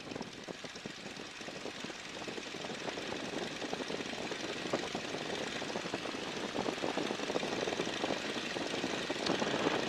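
A 1942 Stearman biplane's engine runs up on the ground, its close propeller drone building steadily louder and rougher as power comes on, with no voices.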